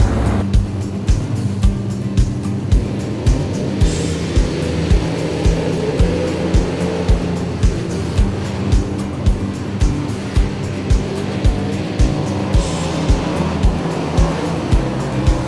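Race cars roar around a dirt track at a night race, engines droning loud and steady with a rhythmic pulse as cars sweep past lap after lap, a constant wash of motor noise with no talk.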